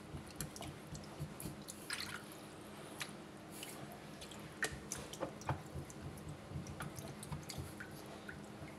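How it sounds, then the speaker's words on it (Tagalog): A plunger works a clogged kitchen sink drain, giving repeated wet squelches and drips in an irregular pumping rhythm, quiet and close with no talking. "Subukan natin i-pump. Pump natin ang pump."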